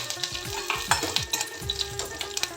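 Curry leaves and neem leaves crackle in hot oil, with rhythmic scraping strokes of a spatula against the pan repeating about every quarter second over a bright, steady sizzle.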